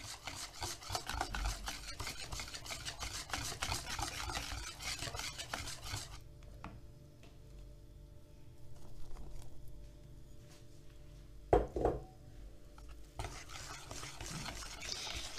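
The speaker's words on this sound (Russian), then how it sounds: "хорошо перемешать это блинное тесто, блинную эту смесь для будущего тортика" Pancake batter with vegetable oil is whisked in a bowl for a layered strawberry pancake cake, giving steady scraping and stirring that is close and continuous, eases off briefly partway through, and ends with a short clink against the bowl.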